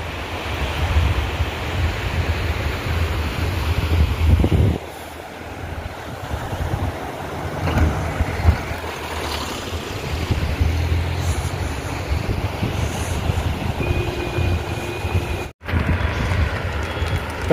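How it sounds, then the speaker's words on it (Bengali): The Lidder river in Pahalgam rushes past in a steady broadband roar of flowing water, loud and close, with wind buffeting and a brief dip near the end. "লিডারের জল কুলুকুলু বয়ে চলেছে।"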